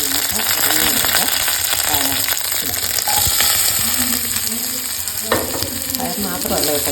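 Chopped green beans, onion and green chilli stir-fry in a pan, giving a constant loud sizzle up close with scraping stirs and occasional clinks throughout.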